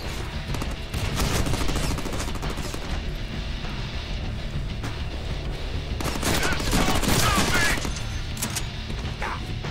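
Sustained gunfire from the Deadpool video game, a dense continuous fusillade of rapid shots with loud bursts and crashes around the middle, filling the whole stretch over game music and effects.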